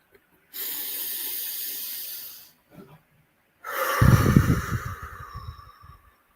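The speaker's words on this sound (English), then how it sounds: "Deep breath." A person draws one long, deep breath in through the nose, pauses briefly, then lets it out in a strong, rushing exhale, close to the microphone in a quiet room.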